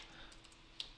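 A few faint, isolated keystrokes on a computer keyboard as a time setting is typed in, with a sharper click near the end over quiet room tone.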